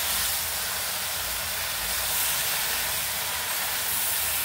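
Meat dropped into a hot pan with shrimp paste while cooking Bicol Express, giving a steady, loud broadband sizzle and hiss that holds evenly throughout with no voices over it.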